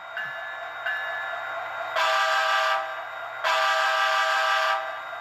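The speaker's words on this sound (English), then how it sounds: "You have the horn and the whistle." A model train's horn and whistle from an NCE Power Cab DCC sound decoder blare in two long, loud, steady blasts separated by a short pause, with a faint electronic hum underneath.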